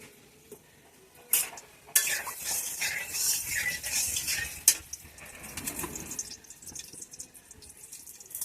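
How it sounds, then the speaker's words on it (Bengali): Cut potatoes hit a hot pan with a sudden rush of sizzling and spattering, then fry on with stirring and clattering against the pan, fairly close. "এবার আলুগুলা ভেজে নেবো"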